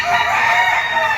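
A yellow-legged malatuba banderado rooster lets out a brief, loud, strained crow held at a steady pitch, heard up close and alone.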